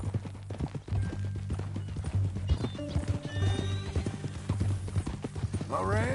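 Horse hooves clip-clop in Red Dead Redemption 2, steady hoofbeats with a horse neighing and whinnying near the end, while characters talk over it.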